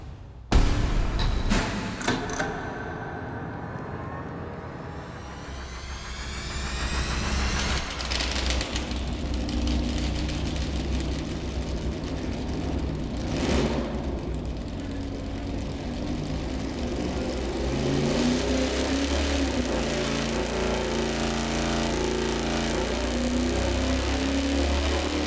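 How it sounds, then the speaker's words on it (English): An Ironhead 440 V8 fitted with a 106-degree lobe separation angle camshaft fires up on an engine dyno, catching after a few cranking pulses, then settling into a loud, rough, lumpy idle that rises in revs. "we're gonna fire it up initially with the camshaft with 106 lobe separation angle"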